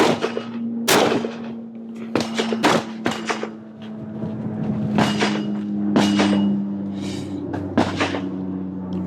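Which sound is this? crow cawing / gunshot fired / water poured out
gunshot fired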